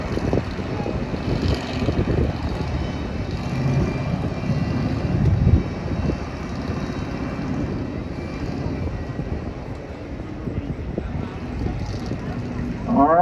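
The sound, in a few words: LS Pro Stock race cars racing on speedway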